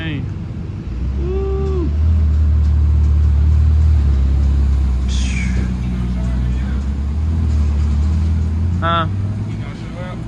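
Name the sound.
car engine revving at a late night car meet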